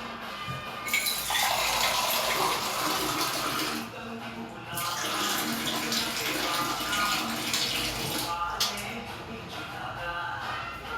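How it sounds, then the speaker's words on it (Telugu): Filtered water poured into a cooking pot, a steady close rushing stream that runs for several seconds, briefly dips, then continues, with no talking over it. "ఎందుకైనా మంచిది ట్యాప్ వాటర్ కాకుండా ఫిల్టర్ వాటర్ వేస్తే బెటర్ ఏమో"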